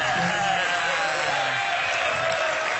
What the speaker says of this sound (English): USA chants coming out of the crowd for some reason